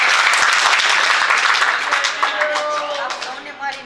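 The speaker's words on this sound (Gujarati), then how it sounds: "માટે આપણે તેમને તાળીઓના ગડગડાટથી વધાવીએ." An audience at a Shiv Ratri celebration in Amreli breaks into loud, dense applause for a senior-citizen trust president. The many hands form a continuous roar that eases slightly toward the end.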